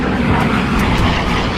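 A Helldiver dive bomber roars in a steep dive, its engine a loud, continuous, broadband drone that fills the whole moment with no break.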